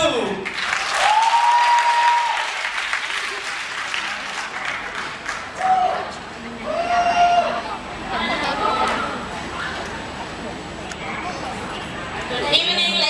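A live audience applauds at an English-language student contest evening, steady crowd clapping filling the room for most of the stretch, with scattered cheers and whistles rising above it and a few voices calling out.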